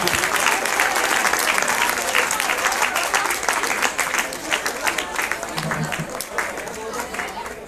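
An audience at a school science exhibition in Joshimath claps loudly and continuously, a thick sustained roar of hands with crowd chatter underneath, easing slightly toward the end.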